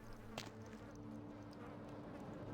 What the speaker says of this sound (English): I can hear flies buzzing around.